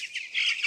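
A chicken on a poultry farm gives a short, raspy squawk, close and fairly loud, with nothing else heard.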